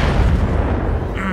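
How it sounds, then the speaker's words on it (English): A Gauss cannon fires in the Battletech video game, a dense, loud boom that fills the short stretch with heavy low rumble and no quiet gaps. "He comes around with that Gauss cannon."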